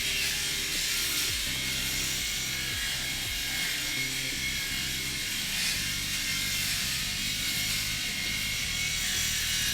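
A small electric shaver motor buzzes continuously while cutting hair, a steady close whine with faint rhythmic rasping as the head moves across the scalp, running alone with no talking.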